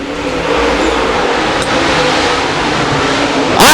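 Race car roaring down the straight at Boothill Speedway, a loud, sustained engine drone at full speed with a sharper rising whine near the end, no talk.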